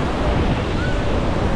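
Sea waves wash along the Coromandel coast under gusting wind, a loud continuous roar with heavy wind buffeting on the microphone.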